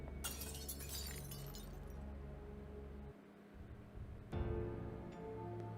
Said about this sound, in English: We'll break the mirror and it'll probably say the same thing.